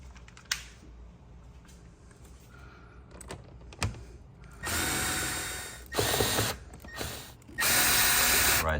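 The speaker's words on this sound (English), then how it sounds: "All right, I'm gonna tighten the screws." Screws being tightened on the air filter cover box of a 2007 Acura RL (Honda Legend), with clicks and light taps followed by three loud bursts of powered driver whirring, close and quiet otherwise.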